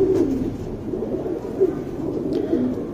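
Young tournament pigeons coo softly close by, a low, steady murmur of repeated calls with no talk.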